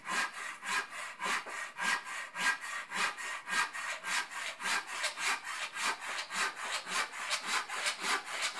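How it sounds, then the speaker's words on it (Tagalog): A handsaw cutting wood in a steady back-and-forth rhythm, each stroke a raspy burst, repeating quickly and evenly throughout. "Paglalagari."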